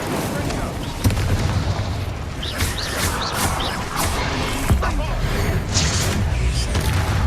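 Fire spell Incendio cast repeatedly in the video game Hogwarts Legacy while fighting goblins: bursts of crackling, whooshing flame blasts over a dense, loud battle bed, with several sharp impacts and a voice shouting over the combat.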